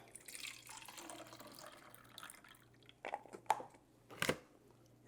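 Walnuts are rinsed under a running kitchen tap, with a soft stream of water and intermittent splashes and clatters as the nuts are handled, fairly close and quiet.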